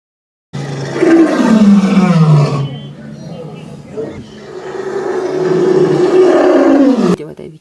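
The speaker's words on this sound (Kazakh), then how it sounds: "Арыстанның күшігі." Two long, loud roars like a lion's, each with a falling growly tone and a short pause between, heard while an animal book is being read.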